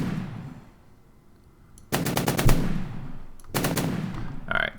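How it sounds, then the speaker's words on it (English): A rotary gun firing in an Unreal game: two loud bursts of rapid, evenly spaced shots over a rumbling spin-up hum, the first burst longer than the second, with no talking. "notice it's spinning a lot slower until we start firing"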